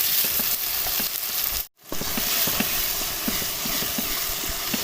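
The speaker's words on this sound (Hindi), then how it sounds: "टमाटर के सॉफ्ट होने तक इसको तकरीबन 2 से 3 मिनट के लिए इसको भी कुक करेंगे" Chopped medium-sized tomatoes fry in a pan with garlic for an egg curry, giving a loud, steady sizzle with light stirring taps and a very brief dropout midway, with no talking.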